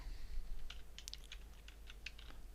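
Typing on a computer keyboard: a quiet run of light, quick key clicks in an uneven rhythm, close by and alone without speech.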